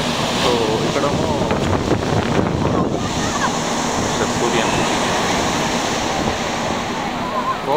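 Waves wash onto the soft-sand shore of Grand Bend Beach, Canada, a loud steady roar of surf mixed with wind buffeting the microphone.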